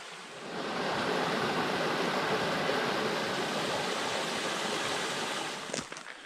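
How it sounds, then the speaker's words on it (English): A brook flows beside a hiking trail on Mt Colden in the Adirondacks, a steady broadband rush of water that swells in and holds loud and close, with no voices. "I don't know what brook this is"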